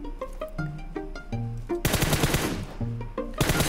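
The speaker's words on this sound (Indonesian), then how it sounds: "gue melakukan pre-fire ke titik-titik di mana kira-kira musuh akan ngepick" Automatic gunfire in PUBG Mobile, pre-firing at likely enemy spots: quick bursts of sharp rapid shots, then a dense loud fusillade, followed by another short burst and a final volley.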